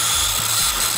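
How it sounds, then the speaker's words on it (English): A circular saw sound effect plays as a steady, loud, continuous high whine with no pauses and no voices over it. "Circular saw."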